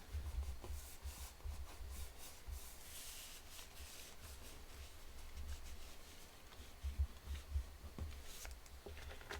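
Fingers rub firmly back and forth over a glued paper flap, burnishing it down, making a soft, continuous scratchy friction with faint low thumps, quiet and close, with no talking.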